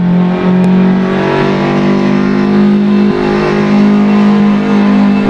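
An Opel Kadett C 16V racing car in Assetto Corsa drones loudly and continuously, its engine holding a steady high-revving tone with slight pitch shifts as it drives on, with no talk.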